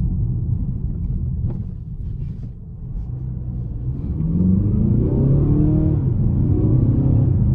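A 2019 Mercedes CLA 220d AMG Line diesel engine runs with a steady low rumble, then swells louder and fuller about halfway through and holds there, close and alone.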